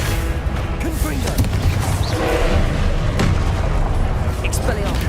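Confringo blasting spell explosions erupt during a Hogwarts Legacy battle, heavy booming thuds layered over dense, continuous combat noise with little pause between hits.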